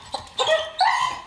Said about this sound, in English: a lot of barking, a lot of frustration.